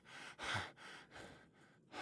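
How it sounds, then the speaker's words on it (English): Indiana Jones breathes heavily inside the tomb in the Windows game Indiana Jones and the Emperor's Tomb: a quiet run of rhythmic, close, airy inhales and exhales, faint and alone. "This is what it actually sounds like in the tomb. Just Indy's heavy breathing."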